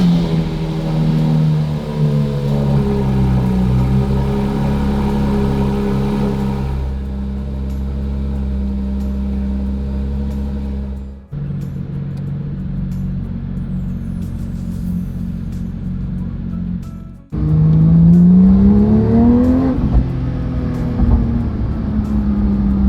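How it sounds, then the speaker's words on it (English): A car engine rumbles steadily from a cold start, with the steady drone cutting between segments and then a louder rise in pitch as the engine revs up, with no talking. "Cold start."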